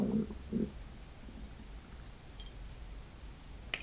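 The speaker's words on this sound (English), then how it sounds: "not only did my stomach growl mad loud on camera" A person's stomach growls in two quick, low rumbles at the start, close and fairly loud, followed by near silence with a faint click near the end.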